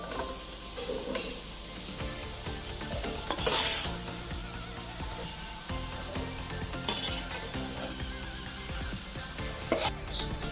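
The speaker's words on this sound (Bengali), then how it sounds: "একটু সময় ধরে আলুটা কিন্তু খুব ভালো করে একটু ভেজে নিতে হবে।" Potato pieces frying in hot oil in a pan for a paneer and cauliflower curry, a steady close sizzle broken by scraping stirs and occasional clinks of the spatula against the pan.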